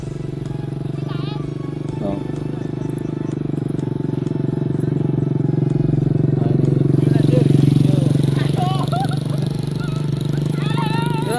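Kids race motorcycles along a busy village road that serves as the main route out of the village, their engines droning and rising steadily in the near background while people talk over them.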